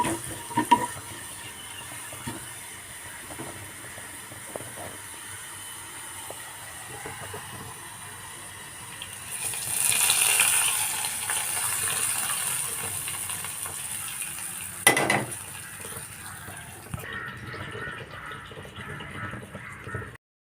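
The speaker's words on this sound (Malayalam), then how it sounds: "അപ്പോൾ ഉള്ളി ആയിട്ടുണ്ട് ഇനി ഇത് കറിയിലേക്ക് ഒഴിച്ചു കൊടുക്കാം" Fried onion tempering poured into a fish curry of manthal fish gives a broad hissing sizzle that swells midway and holds for several seconds, with a sharp clatter just after and quieter kitchen noise around it.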